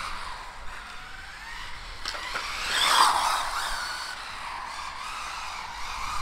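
A RLAARLO AK-917 carbon RC car brakes hard and then drifts, its tires making a rising hiss and squeal that peaks mid-clip and then fades back under a steady motor whine.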